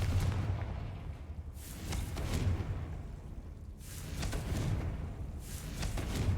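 Confringo blasting spell in Hogwarts Legacy, booming explosive impacts with whooshing bursts repeating over a constant low rumble, loud and close with no talking.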